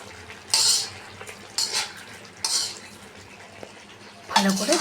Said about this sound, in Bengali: ভালো করে মিলিয়ে নিব।